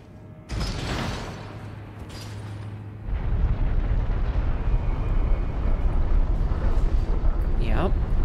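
In Elden Ring Shadow of the Erdtree, a lever is pulled and sets off a heavy mechanism: a sharp clunk, then a deep, loud, sustained rumbling grind that builds and continues to the end.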